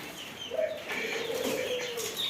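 Pigeons and ringneck doves coo steadily from cages in a poultry shop that also holds chickens, quail and rabbits, with soft chirps and a low, continuous call running close by and no talk.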